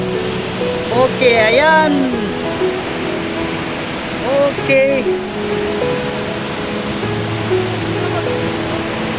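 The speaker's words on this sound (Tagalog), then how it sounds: "sa lakas ng impact ang pagbagsak ng falls dito" Bubuludtua Falls pours down with heavy impact, a steady broad rushing roar heard from nearby. A person speaks briefly over it, and some high whistling chirps rise above the constant water noise.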